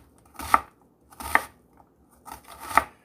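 A knife slices an onion into long strips on a cutting board, three distinct crisp chops spaced about a second apart, close and clear with quiet pauses between them.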